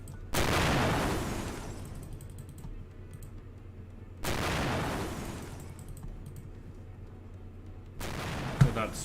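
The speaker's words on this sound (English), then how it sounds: "Let's get explosion." Explosion sound effect in a homemade game, playing three times as a loud burst with a long rumbling decay, the bursts a few seconds apart over a steady low hum.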